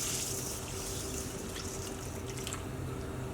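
Cold water is poured into a bowl of bulgur, a soft, steady splashing and trickling that runs the full few seconds at low, close level with no talk.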